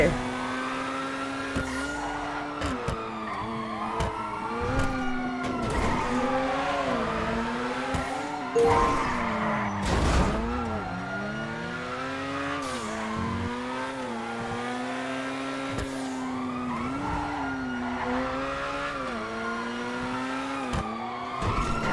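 Police car chase in GTA V, with engines revving and swooping up and down in pitch and tires squealing through hard turns, loud and continuous for the whole stretch.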